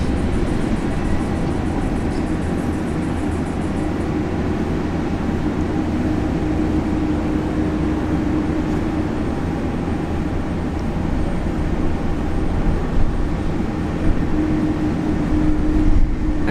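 A Korean Air Boeing 787 Dreamliner at Brisbane International Airport makes a loud, steady broadband jet roar that holds throughout, swelling slightly toward the end.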